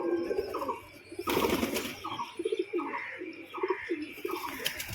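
A male pigeon in breeding condition at a home loft coos repeatedly in a steady rhythmic series of throaty phrases, close by, with a brief louder rustling burst partway through.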